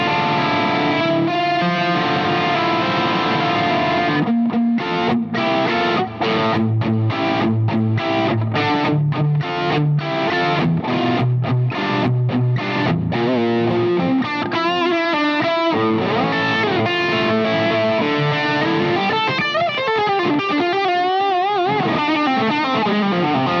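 A loud, heavily distorted electric guitar through a Jackson Audio Asabi pedal in magenta mode plays chunky rhythm chords and riffs, with choppy palm-muted stops and sustained crunchy passages.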